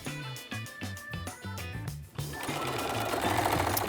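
A sewing machine stitches a tank top armhole in quick rhythmic bursts of needle strokes, briefly pausing, then running steadily and loudly to the end.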